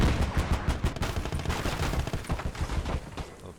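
Tank cannon and gunfire in the WWII strategy game Call to Arms: Gates of Hell, with a Panzer I on the field: a rapid run of sharp shots and bursts, loud and dense at first, then continuing as steady scattered firing.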